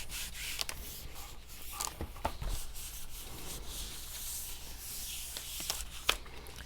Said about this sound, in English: So burnish it.